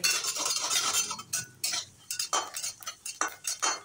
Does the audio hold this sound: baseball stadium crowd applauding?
no